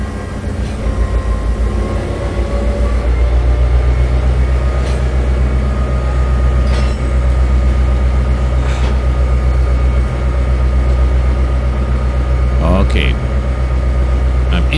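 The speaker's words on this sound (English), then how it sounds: "The truck sounds are working." Truck engine in Trainz 2022, a loud, steady low droning rumble that persists throughout, with a few short mechanical clunks and a brief spoken word over it.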